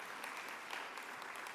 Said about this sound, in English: So let's give a round of applause to Zimbabwe.